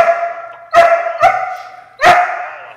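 A six-month-old golden doodle puppy barking, three loud, close, high-pitched barks spaced out with short gaps between them, no talking.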